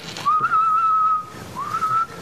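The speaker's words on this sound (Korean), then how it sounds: "휘파람을 불면" A person whistles two steady, sustained notes, the first long and the second shorter after a brief pause, clear and close.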